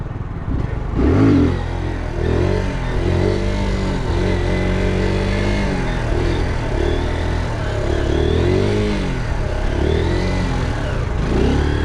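A motorcycle engine roars loud and close during a wheelie, holding a steady high drone with wavering pitch as the throttle rises and falls, sounding alone the whole time.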